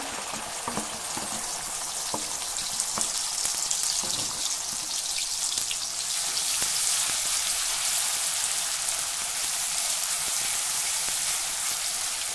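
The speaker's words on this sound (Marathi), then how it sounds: "मध्यम गॅसवर छान तेल सुटेपर्यंत आपल्याला हे वाटण परतायचं आहे" Onion and coconut paste frying in hot oil in a kadhai over medium gas, giving a steady, bright sizzle with small crackles that holds throughout and grows a little fuller partway through, with no talk.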